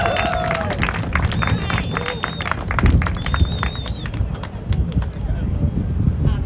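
An outdoor rally crowd outside the US Capitol applauds a speaker, a broad wash of clapping and cheering with whistles rising over it while a voice talks through the noise.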